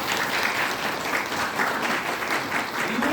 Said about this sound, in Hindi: एक जोरदार ताली इनके लिए जरूर होनी चाहिए।